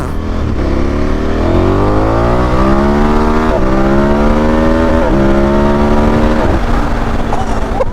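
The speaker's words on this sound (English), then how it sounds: "I'm just going to gently accelerate." 2021 KTM Super Adventure S motorcycle engine accelerating gently, a steady close throaty drone whose pitch climbs smoothly over several seconds, with brief dips as it shifts, loud and alone.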